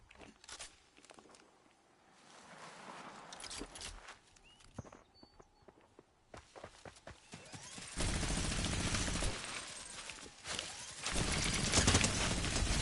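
A charged-up minigun fires in Fortnite, a sustained roaring burst of rapid gunfire mixed with game effects and footsteps, building loud in the latter half.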